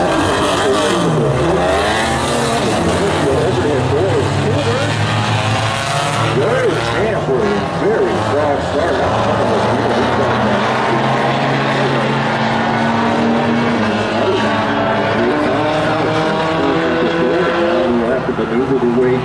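Race cars at the start of a race at South Sound Speedway roar loudly and continuously as the field accelerates, engines rising and overlapping with a commentator talking throughout.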